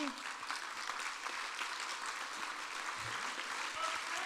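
An audience at a youth of the year celebration event applauds a guest asked to stand, a steady, dense wash of clapping that holds evenly throughout at moderate distance.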